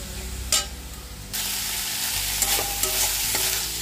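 Cooked fenugreek greens with potato and eggplant sizzle steadily in an uncovered pan, with a spatula clack early on and then a louder, continuous fry punctuated by repeated scraping stirs.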